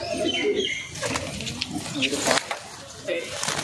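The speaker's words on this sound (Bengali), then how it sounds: "দেখো শুধু পায়রাগুলো দেখো" A mated pair of Giribaz pigeons, a cock and a hen, coo in low murmurs at close range while someone talks over them and wings flutter briefly.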